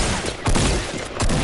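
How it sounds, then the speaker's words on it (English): Rapid gunfire in a video game, a dense continuous burst of shots that stays loud and close for the whole short stretch. "Yeah, Isaiah, I'm shooting this one!"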